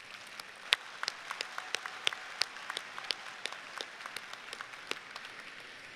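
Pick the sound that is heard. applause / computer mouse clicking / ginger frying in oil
applause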